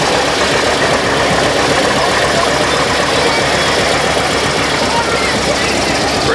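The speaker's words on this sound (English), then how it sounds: "Somebody called those motors from those old tractors hit and miss. They hit on one and miss on another" An old hit-and-miss tractor engine runs at a parade, its steady low chugging mixed into heavy broadband background noise for the whole stretch.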